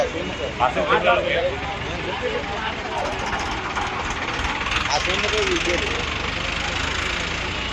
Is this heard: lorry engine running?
yes